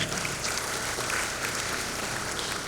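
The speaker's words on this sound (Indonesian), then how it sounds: "Tepuk tangan sekali lagi ya." Dense, steady applause from an audience at the installation ceremony of the PPS-Putra Betawi central board, a continuous wash of many hands clapping at moderate volume from start to finish, with no voices standing out.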